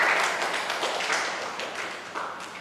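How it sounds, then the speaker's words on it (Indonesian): Applause from a church congregation, a dense wash of many hands clapping that stays steady and fairly loud across the clip, then eases slightly toward the end with no one speaking over it. "Tepuk tangan untuk Tuhan Yesus Kristus."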